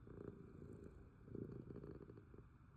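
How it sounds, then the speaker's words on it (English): A house cat purring up close, a very quiet, low rhythmic rumble that rises and falls with each breath and has no talking over it. "I don't know if you guys can hear him purr."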